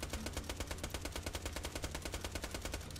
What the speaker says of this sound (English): let's get right into shooting at a target and see how it does for damage